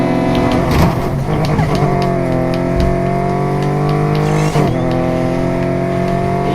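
Porsche race car engine in the Need for Speed video game, a loud steady high-revving drone held at length, with a brief shift or dip near the end and no talk.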